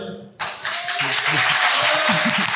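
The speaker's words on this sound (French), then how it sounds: "je pense qu'on peut l'applaudir" An audience at a live Harry Potter reading event breaks into applause after a voice is heard. The clapping is sudden, loud and close, with murmuring voices mixed beneath it.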